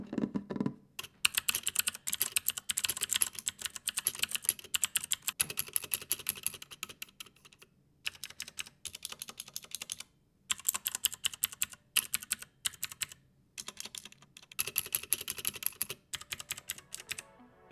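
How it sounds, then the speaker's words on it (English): Quiet, close typing on a Cooler Master MK721 prototype keyboard: rapid bursts of keystroke clicks broken by short pauses, with no talk. "let's do a sound test for the keyboard"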